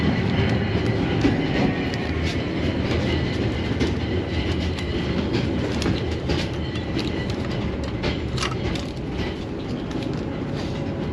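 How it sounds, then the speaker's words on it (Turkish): Steady rumbling of a tram rolling along rails in Lviv, Ukraine, with continuous low clatter and occasional faint squeals, loud and close throughout. "Şimdi tramvaya gidiyoruz."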